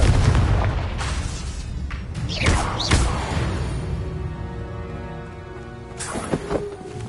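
A Confringo blasting spell in Hogwarts Legacy bursts into a pair of booming explosions close together, then debris rumbles and rings out as a low tone fades, with another burst of crackling impact near the end.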